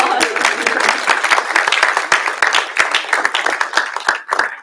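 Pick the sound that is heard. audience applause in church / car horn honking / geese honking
audience applause in church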